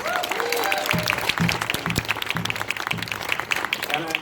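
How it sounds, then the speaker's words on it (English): A crowd at a student solidarity rally gives a round of applause for a speaker, steady clapping throughout with voices and cheering mixed in and someone talking over it. "Can you please give her another round of applause?"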